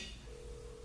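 An iPhone rings faintly inside a sealed vacuum chamber, giving a thin, muffled steady tone that comes in partway through the short moment. It is heard alone, with no talking.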